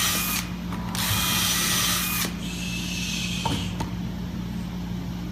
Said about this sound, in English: And we're going to drill these.